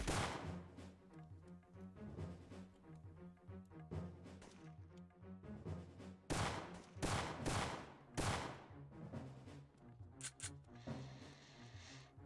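Game gunfire from Syphon Filter 3: dense, continuous bursts of automatic shots, loud and close, with a few sharper heavy blasts near the end as a full magazine is emptied into an enemy.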